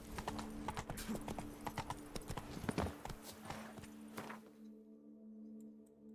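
Horse hooves clip-clop in a steady, quick rhythm while riding in The Witcher 3, close and distinct over a constant low hum, then break off into near silence for the final second.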